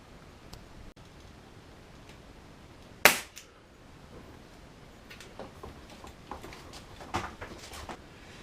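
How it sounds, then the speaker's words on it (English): A single sharp crack of a stapler driving a quarter-inch crown staple into the metal skin at the arch of a teardrop trailer, loud and brief, followed by faint shuffling and light ticks in a quiet workshop. "I just put a 1/4-inch crown staple on either side at the peak of the at the arch here on the metal."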